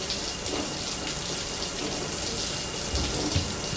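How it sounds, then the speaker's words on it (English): A shower in the video game Death Stranding runs with a steady, close hiss of falling water that stays even and continuous from start to end, with no voices. "Time for a shower."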